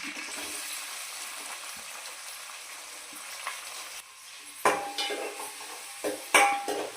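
Onions, green chillies and cumin being stirred in a sizzling pan: a soft, steady frying hiss runs throughout, broken in the second half by several sharp, close clanks and scrapes of the spoon against the pan.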